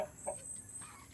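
Faint, soft clucking from a laying hen, a few short low notes close by over quiet background hiss.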